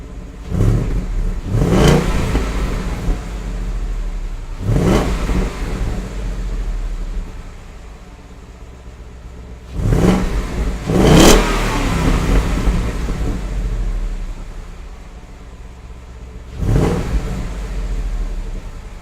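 A 2017 Ford Mustang GT engine revs hard several times through a stock exhaust, each roaring burst rising then settling back to a low idle rumble between revs, loud and close.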